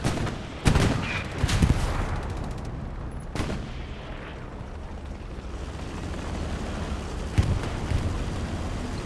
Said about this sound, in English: Looks to me like it was just an AT cannon.